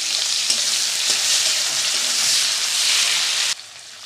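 Capsicum added to lightly browned onions sizzles loudly in a hot pan, a dense steady frying hiss that cuts off abruptly near the end, with no talking.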